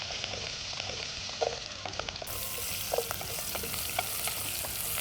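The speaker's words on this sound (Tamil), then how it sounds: "ஸோ இது வதங்குது." Asafoetida, onion and garlic sauté in a pan with fenugreek, a steady soft sizzle broken by a few light scrapes and stirs, close by and alone without talk.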